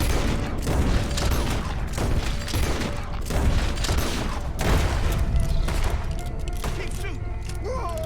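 Dense gunfire from Red Dead Redemption 2, a continuous barrage of booming shots and thuds over about eight seconds, loud and close, with people talking over it.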